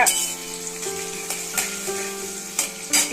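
Chopped carrots fry in a pan for vegetarian fried rice, giving a steady close sizzle broken by a few louder bursts as they are stirred.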